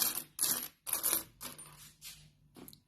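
Coins from a Portuguese coin collection, including tens and twenties, dropping and clinking together in several quick metallic bursts, close and bright, with no talk over them.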